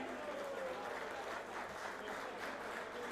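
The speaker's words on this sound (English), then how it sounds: "Let's have a big round of applause for all of them." Steady audience applause at a KGA Premier League tournament ceremony, a dense wash of clapping from a crowd that holds evenly for the whole stretch without a break.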